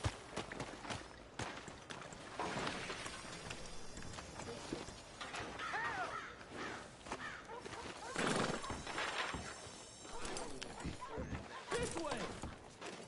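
A horse in Red Dead Redemption II whinnies and snorts amid clattering hooves and busy game effects, with a voice talking over parts of it.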